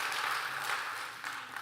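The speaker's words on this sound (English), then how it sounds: "Let's give them a round of applause." A round of applause for farmers from Nebraska, Minnesota and South Dakota, a soft, even patter of clapping from a modest crowd heard at some distance, easing slightly near the end.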